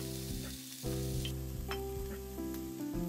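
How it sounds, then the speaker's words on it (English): Chopped onion stir-frying in salted oil in a hot pan gives a steady close sizzle, broken by a few spatula scrapes and stirs. "Okay, I'll stir fry the onion."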